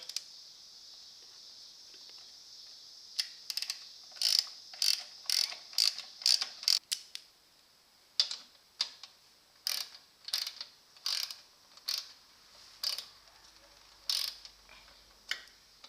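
Ratchet with an extension turning 3/8 inch bolts on a Toro Timemaster mower, a run of quick clicking bursts followed by a few separate, spaced strokes, close and clear with no talking.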